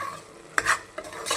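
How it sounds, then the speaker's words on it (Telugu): Boti curry with fresh coriander stirred in a pan: a few sharp spoon scrapes against the metal over a low simmering sizzle, close by and without voices. "వేసేసుకొని ఒకసారి దీన్ని బాగా కలుపుకుందాము."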